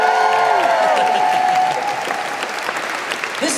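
A concert audience at a Christmas charity music event claps and cheers, loud and sustained, with a held sung or instrumental tone fading early and a brief voice near the end.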